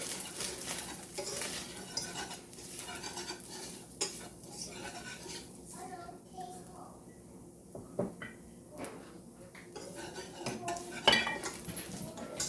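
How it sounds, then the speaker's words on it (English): A spoon stirs a few tablespoons of flour into browned hamburger meat in a pan, with repeated scraping and clinks of metal on the pan and a soft sizzle, fairly quiet with a few sharper knocks. "we're going to go ahead and add a few tablespoons of flour. Give it a good stir."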